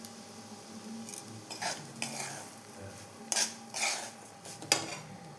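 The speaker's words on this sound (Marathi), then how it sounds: "त्याच तुपामध्ये आपण हा जो बारीक रवा आहे तो देखील व्यवस्थित भाजून घ्यायचा आहे" Fine semolina roasting in ghee, stirred in a pan with repeated metal scrapes and clinks in irregular bursts over a faint sizzle, close by.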